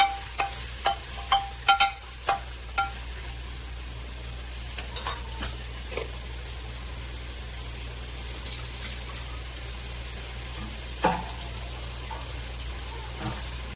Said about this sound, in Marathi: असं चांगलं 2 मिनिटं तेलामध्ये त्याला फ्राय करायचं.